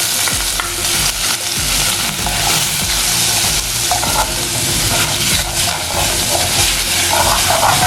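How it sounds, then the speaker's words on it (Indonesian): Shrimp fry in hot oil with a little butter, giving a loud, steady sizzle close up, with stirring scrapes breaking through now and then. "Kemudian kita panaskan minyak. Dan sedikit butter. Lalu kita masukkan udangnya."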